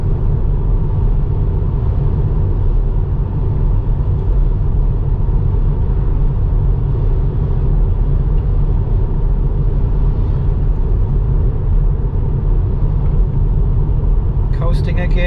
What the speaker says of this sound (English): you probably can hear the wind